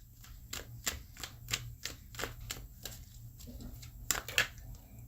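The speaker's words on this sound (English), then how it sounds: "Let me shuffle these up on the bed." Tarot cards shuffled on a bed, giving a series of crisp, rapid flicking riffles at close range, irregularly spaced, over a faint low hum.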